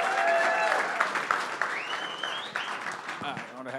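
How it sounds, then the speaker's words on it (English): Audience applause at a startup pitch event in Atlanta, urged on for a second round: lively clapping from a room, loud at first and thinning out, with whoops and talk mixed in. "Clap for real, guys."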